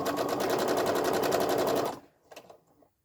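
A quilting sewing machine chain stitches pieces together with a fast, even, loud mechanical chatter for two seconds, then stops, leaving a few soft clicks.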